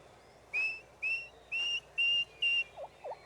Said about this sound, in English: The poult left behind gives the lost call.